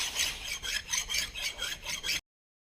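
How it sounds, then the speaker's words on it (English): A hand file rasps along a metal edge of a Nissan Titan M226 rear axle ring gear, about ten even back-and-forth strokes in a steady rhythm, close and fairly loud, alone without talk. "we're going to clean up this edge and this edge with the file"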